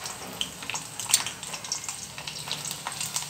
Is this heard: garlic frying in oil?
yes